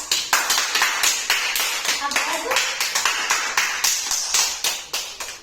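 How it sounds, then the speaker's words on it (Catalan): Audience applauding at a Falla Concordia quiz contest after a contestant wins points, a loud burst of brisk clapping that keeps going steadily throughout. "Un aplaudiment molt fort!"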